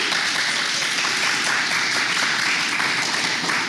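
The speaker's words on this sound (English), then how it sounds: "Can everyone please give Sherman another round of applause?" Loud, dense applause from an evening audience at a live Banned Books Week reading, sustained clapping filling the room evenly throughout with no voices over it.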